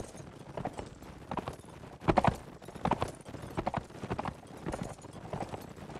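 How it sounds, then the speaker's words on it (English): Horse hooves clip-clop in a strategy video game, an irregular run of moderately loud hoofbeats with no speech over them. "I think red's got the first stab on Craddock's horse"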